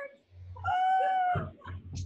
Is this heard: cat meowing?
yes